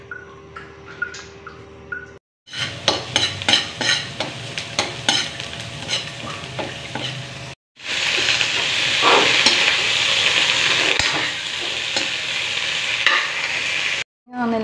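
Shrimp with plenty of garlic fry in a pan for buttered shrimp with aligue sauce, giving a loud close sizzle with repeated scraping, clattering stirring strokes and a steady hiss that fills the pauses, broken by short cuts.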